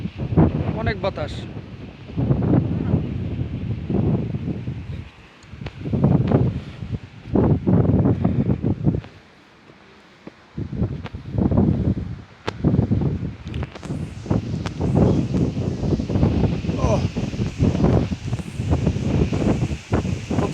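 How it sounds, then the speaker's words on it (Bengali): Strong wind on a high hilltop blasts the microphone in heavy, roaring gusts that drop away briefly near the middle, with voices faintly under the rumble. "বাতাস, অনেক বাতাস।"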